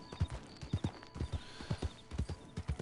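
Horse hooves clip-clop in Red Dead Online, a steady walking rhythm of paired thuds, close and clear over a faint ambient backdrop, with no talking.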